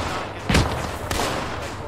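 Gunfire in the military game Arma 3, with a sharp loud shot at the start followed by a second, softer report a moment later, each trailing off into a rumble over steady background noise.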